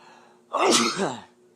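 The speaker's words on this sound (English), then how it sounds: "Whenever I sneeze like that, it tells me a cold is on its way." A single sharp, loud sneeze bursts out near the middle, preceded by a short inhale and followed by quiet.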